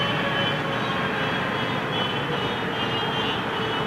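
Steady, loud jet engine roar with a broad whooshing hiss, holding a constant drone from a nearby aircraft as its engine spools down.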